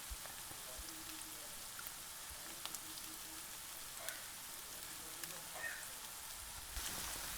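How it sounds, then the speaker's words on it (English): Bacon and cheddar frankfurts slow-grill in a pan, a faint, steady sizzle and crackle with scattered small pops, quiet and continuous. "Just put them in and allow them to slow grill, giving it those gorgeous marks on it."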